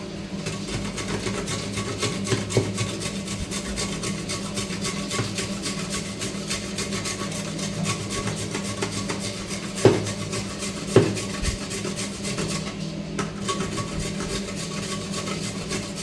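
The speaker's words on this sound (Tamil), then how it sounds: "இது தென்னங்கருப்பட்டி இதை வந்து துருவி எடுத்துக்கலாம்" Coconut palm jaggery being grated by hand, a steady close scraping rasp that continues throughout with a couple of sharper knocks near the middle.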